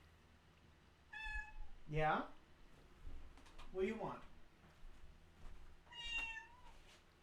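Close, clear meows from a pet cat come at the start and end, while a person chats with it in the middle.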